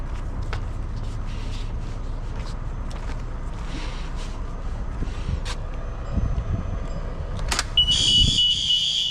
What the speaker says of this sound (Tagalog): Tumunog yung alarm nila.